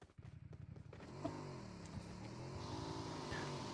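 A motorcycle engine revs in the PUBG video game: a quick series of rhythmic putters, then a rising, sustained engine drone that grows slightly louder, faint and without talk.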